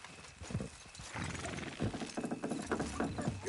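Horses in Red Dead Redemption 2 clop along with steady rhythmic hoofbeats, close and clear, with whinnies and snorting breaths rising over the trotting.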